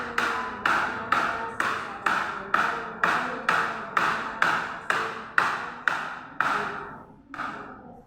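Evenly spaced taps beat out during Quran recitation practice, about a dozen crisp knocks in a steady rhythm, close and alone, with a short pause before a final softer tap.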